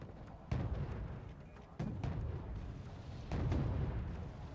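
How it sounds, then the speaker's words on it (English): AMOS artillery in Wargame Red Dragon firing three heavy booming shots at roughly even intervals, each a sharp blast trailing into a rumbling decay, with no voices over them. "Amos artillery pounding at Foxtrot."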